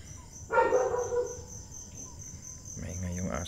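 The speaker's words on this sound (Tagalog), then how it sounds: "Maingay yung aso natin kasi gabi na tayo dito" A single dog bark rings out against a steady chorus of crickets and insects at night, followed by some faint rustling and low noise.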